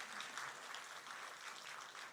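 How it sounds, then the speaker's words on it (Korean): A church congregation at a Sunday worship service claps in welcome, a soft, even patter of applause that lasts throughout at a modest distance. "우리 박수로 환영하십시다."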